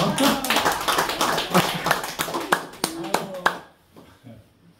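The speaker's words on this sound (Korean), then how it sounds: "박수 쳐주세요." An audience at a university lifelong-education lecture on autobiography writing claps in a burst of sharp, distinct hand claps that thin out to a few scattered claps and then fade to near silence, with some voices in the room.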